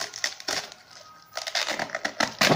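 A pickling cabbage is cut and its tightly packed leaves are snapped apart by hand, giving several sharp, close crunching cracks separated by short quiet gaps, with the loudest bursts near the end.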